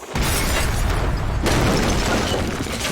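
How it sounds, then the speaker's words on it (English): A propane gas explosion in an unventilated house fills the space with a sustained, roaring, loud rumble of blast and debris lasting several seconds. "In an unventilated area, when you contain that burning of propane gas, it explodes."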